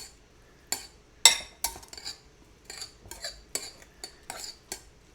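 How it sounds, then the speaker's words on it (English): A utensil stirs crab and mushroom stuffing in a bowl, producing a string of sharp clinks and scrapes at irregular intervals, fairly close and clear against a quiet background, with no talk. "Grab something to stir it with."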